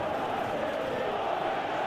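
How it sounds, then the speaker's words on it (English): A football stadium crowd in a video game roars steadily, a dense continuous wash of cheering voices with no clear breaks. "you can feel and hear how the crowd are reacting to all of this"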